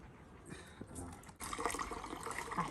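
Tender coconut water splashes and pours out after the nut is cut open, a brief quiet rustle giving way to a continuous loud gushing splatter of liquid.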